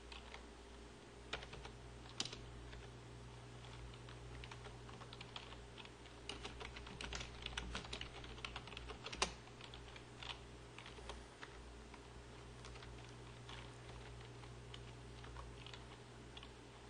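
Someone keys an account number into a computer keyboard in a quiet office setting: soft, irregular clicks patter continuously over a low background hum, with a few sharper taps standing out.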